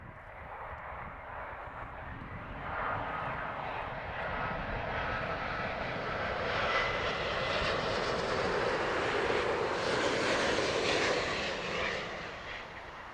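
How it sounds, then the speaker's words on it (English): Iberia Airbus A350-900 jet landing at Heathrow in the evening, a steady distant engine roar that slowly swells louder and brighter as it nears, then eases slightly at the end, heard alone. "Beautiful Iberia A350-900 floating its way into Heathrow this evening."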